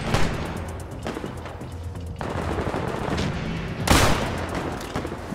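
Rapid video-game gunfire in Fallout 4 aimed at a Deathclaw, dense automatic bursts of shots layered with loud impacts and a heavy boom midway, continuous and close.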